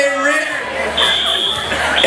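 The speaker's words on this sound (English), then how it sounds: "Guys, this is a real fire alarm." A building fire alarm sounds during a school assembly, a sustained electronic buzzing tone holding steady throughout, with crowd chatter and voices underneath.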